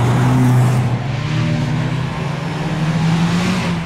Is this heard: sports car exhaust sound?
yes